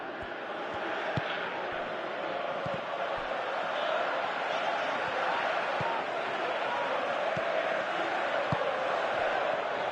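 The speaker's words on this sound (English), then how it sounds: "Crowd appreciates good football all round there." Stadium crowd in a PS4 football game, a steady roar of cheering and applause holding at one level throughout with faint thuds underneath.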